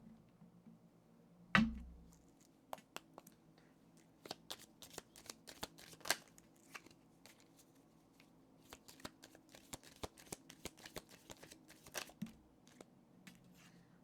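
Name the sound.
shuffling tarot cards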